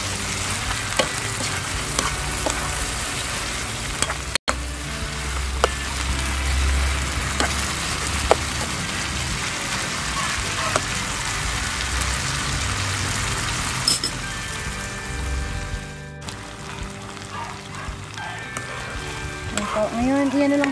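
Chicken feet frying in oil, with a steady, close sizzle and crackle that runs throughout, along with a few stirring clatters and faint background noise.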